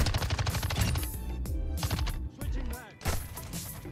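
Rapid automatic gunfire from an MX9 submachine gun in the Call of Duty video game, arriving in loud, dense bursts separated by short gaps, with game effects mixed in and no talk.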